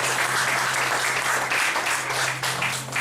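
Church congregation applauding to acclaim the Lord, a dense, steady wash of many hands clapping throughout, with a low hum underneath.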